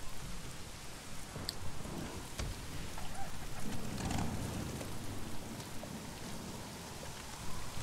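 Steady rain falling in the video game Days Gone, a dense even hiss pattering on surfaces, with a faint low rumble of thunder partway through and no voices.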